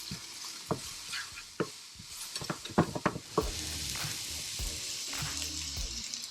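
Cumin toasts in a hot pan with a soft, steady sizzle under sharp utensil taps and scrapes against the pan, close up and with no voices.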